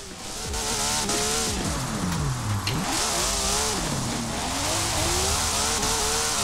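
Nissan Skyline R34 in Forza Horizon 4 drifting, its engine revving loudly and continuously with rising and falling pitch sweeps, tyres adding a rough hiss beneath the steady engine noise.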